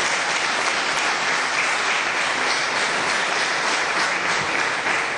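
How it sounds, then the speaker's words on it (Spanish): An audience at a year-end dinner honouring a 1969 football team applauds loudly and steadily, a dense continuous clapping that fills the room without pause. "Aquí están presentes, con un aplauso bien fuerte, Jorge Carrascosa."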